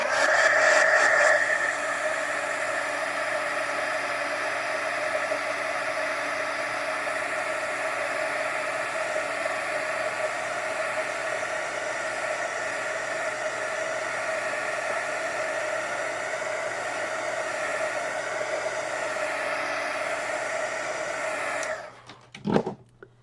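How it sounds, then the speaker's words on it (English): A heat gun blows steadily for about twenty seconds while drying handmade washi tape, a close, even whooshing whir with a faint tonal whine that cuts off abruptly near the end, followed by a brief clunk. "Let's hit it with the heat gun real quick."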